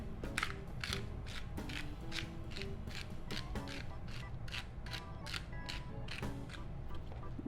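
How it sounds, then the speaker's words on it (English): Italian herbs ground by hand over chicken feta pasta, a close, steady run of rapid ratcheting clicks and creaks repeating throughout with no talk. "I have some Italian herbs that I'm going to, again, grind over it"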